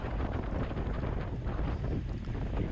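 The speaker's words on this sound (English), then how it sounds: "I'm getting hit with that cross headwind" Strong crosswind and headwind buffeting a rider in a Cat 4/5 bicycle race, a dense, steady roar of wind battering the microphone, loud and continuous with no talk.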